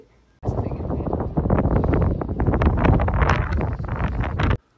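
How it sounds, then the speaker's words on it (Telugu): Loud gusting wind buffets the microphone in rough, roaring bursts on a mountain top in Banff, with a voice speaking underneath. "విండ్ మాత్రం క్రేజీగా ఉంది"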